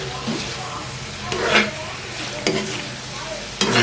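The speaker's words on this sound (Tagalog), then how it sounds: "Gisa-gisa na lang to." Food sautés in cooking oil alongside spring onion leaves, a buffalo brain dish in the making, with a constant sizzle and periodic scraping stir strokes, while a person talks over the cooking.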